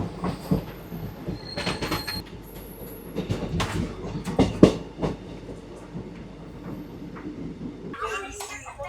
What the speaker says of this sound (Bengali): আমরা এখন ওভারটেক করছি অমৃতসর মেল যেটা দেখতে পাচ্ছেন আমরা ক্রস করে বেরিয়ে যাচ্ছি